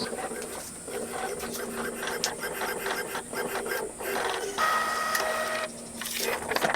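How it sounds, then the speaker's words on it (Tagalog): An Epson L3150 inkjet printer runs a nozzle check print, with a loud steady mechanical whir, clicking and whining tones as the print head carriage shuttles and paper feeds, close by and continuous. "Print na natin."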